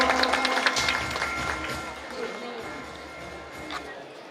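A crowd applauding to welcome an honoured guest at a Vishwakarma Jayanti community festival in Washim, clapping strongest at the start and fading, with an announcer speaking over it.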